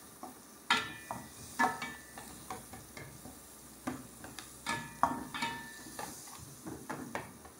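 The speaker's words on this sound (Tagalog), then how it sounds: "Margarine at sibuyas sa bawang." Onion and garlic sautéing in margarine in a pan, with a steady soft sizzle and repeated scraping stirs of a spoon or spatula in an irregular rhythm, close up with no talking.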